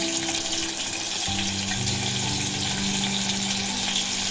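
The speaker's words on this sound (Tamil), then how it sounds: "பொரிஞ்சிருச்சு, நம்ம பெரிய வெங்காயம் போட்டுக்கலாம்" Big onions frying in hot oil with spices in a pan, a steady broadband sizzle throughout with a low humming tone underneath, no talking.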